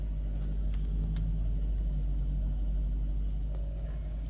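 A 2012 Nissan Rogue engine runs at a steady idle after starting, a constant low rumble close by with slight fluctuations and a few faint clicks over it, and no one talks.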